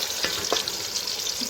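Ground tomato frying in hot ghee in a pot, a steady dense sizzle with a couple of brief scraping stirs, close and continuous with no voices.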